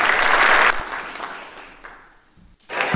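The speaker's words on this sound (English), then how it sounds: "Let's give them another round of applause." Audience applause at a live comedy show, dense and loud at first, then thinning and fading toward near quiet. A fresh burst of clapping starts just before the end.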